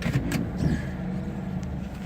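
A car engine idles steadily at close range, a low continuous rumble with no voices, only faint clicks near the start.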